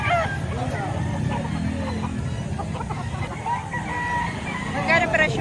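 Chickens and roosters brought to a market cluck and crow amid a busy crowd, with people talking and bargaining throughout and the birds heard close and intermittent.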